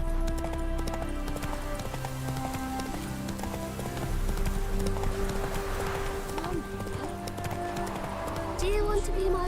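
Hooves of Roach, the horse from The Witcher 3, clip-clop steadily at a gallop under game music, with rain pattering around and a brief whinny near the end; speech overlaps.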